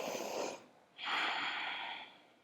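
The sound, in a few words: person taking a full breath during yoga practice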